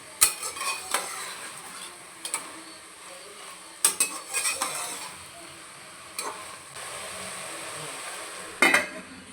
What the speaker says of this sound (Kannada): ಶುಂಠಿ ಬೆಳ್ಳುಳ್ಳಿ ಪೇಸ್ಟ್ನ ಹಸಿ ವಾಸನೆ ಹೋಗೋವರೆಗೂ ಚೆನ್ನಾಗಿ ಫ್ರೈ ಮಾಡ್ಕೊಳ್ಳೋಣ